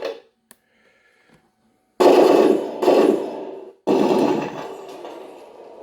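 Electronic machine gun sound effect from a 1/16 scale RC IDF M51 tank, played as loud bursts of rapid fire separated by short pauses after a few faint clicks, close and alone without talk.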